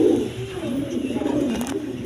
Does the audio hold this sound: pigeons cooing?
yes